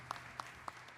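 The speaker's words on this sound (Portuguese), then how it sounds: "E uma grande salva de palmas outra vez para o grupo." Four sharp, evenly spaced claps ring out in about a second from an audience at a cante singing festival, applauding the group after a performance.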